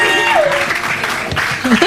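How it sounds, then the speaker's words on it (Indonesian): A studio audience applauds on an Indonesian TV talk show, loud and brief, mixed with voices talking over the clapping. "Tepuk tangan dulu"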